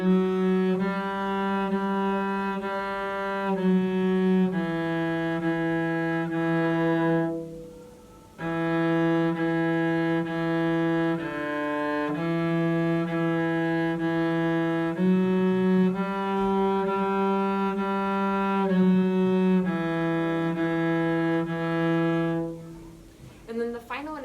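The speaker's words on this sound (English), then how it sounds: "just to hear the kind of sound that you can get on a cello on that song" A cello plays a slow melody, long sustained bowed notes in a steady phrase with brief breaks between them, warm, close and clear, with no talking.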